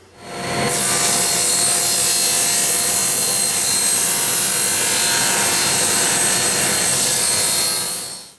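Power saw ripping thin wood strips for a mosaic bookmark, a loud, steady, continuous cut running about eight seconds with a sharp start and fade at the end, no talking.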